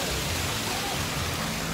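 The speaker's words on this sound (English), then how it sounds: "it's pouring rain" Heavy rain pours outside a retro diner as a steady, dense wash of hiss that fills the whole moment without pause, with no voices.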